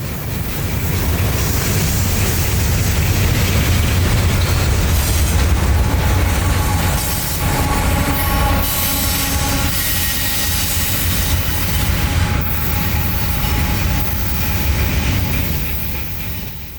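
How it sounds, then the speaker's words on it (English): A Norfolk Southern freight train made entirely of gondola cars rolls past with SD70 locomotives leading and a GE ES44AC at the rear, a loud, continuous rumble of wheels and cars with occasional squeal and clatter. "this is the first all gondola train I've ever seen"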